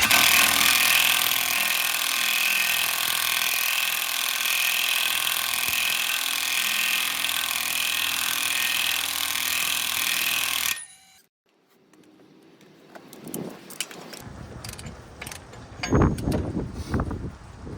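An ALLOYMAN 1/2-inch impact wrench runs steadily and loudly for about ten seconds as it threads a bolt back down. It then cuts off, leaving quieter, scattered clanks and handling noises.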